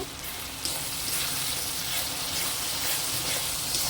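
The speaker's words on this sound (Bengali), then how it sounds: "তো এর মধ্যে আমি ধনে গুঁড়ো 1 চামচ আর জিরে গুঁড়ো 1 চামচ দিয়ে কষে নেব" Coriander and cumin powder sautéing with soybean in a pan, a steady soft broadband sizzle that stays even and continuous throughout, with no talking.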